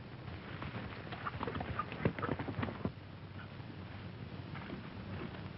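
Horses' hooves clip-clop at a steady walk on a western trail, faint and somewhat distant, with a soft background hiss.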